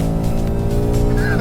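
A Mustang GT with a 10-speed automatic pulls hard down a track straightaway, its V8 a loud, dense, steady rumble with rising harmonics holding close throughout.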